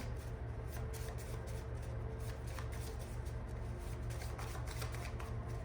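A deck of oracle cards is shuffled by hand up close, producing a soft, steady stream of rapid riffling flicks and papery taps throughout, quiet and with no voices.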